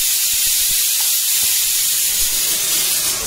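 A pressure cooker cooking sambar releases steam in a loud, continuous hiss that holds steady for several seconds before easing off, close and alone with no voices.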